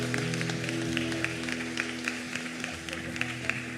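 A church congregation claps steadily in praise, with many hands making a continuous patter of claps over a sustained low musical drone and faint voices.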